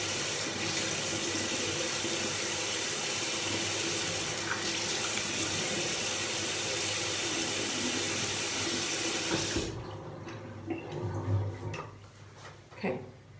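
A tap runs steadily into a sink, a loud close hiss of water for most of the clip before it shuts off, leaving faint clinks and handling sounds.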